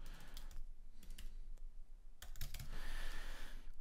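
Rapid clicking keystrokes on a computer keyboard while text is entered into a WordPress field, coming in uneven bursts with short pauses, close and fairly quiet.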